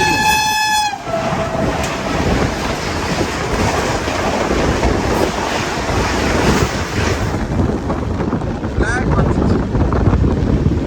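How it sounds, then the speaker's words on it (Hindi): A Gatimaan Express train speeding past at about 160 km/h: a loud, sustained rushing roar with rhythmic clatter of wheels over rail joints, heard close by from another train, with a brief horn-like tone at the start. "B5 attached Gatimaan express crossing, flat 160"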